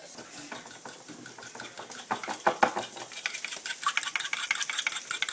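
Tortilla strips being stirred in chorizo fat and butter in a pan, giving a soft, steady sizzle with irregular scraping and clinking from the utensil, close and fairly quiet.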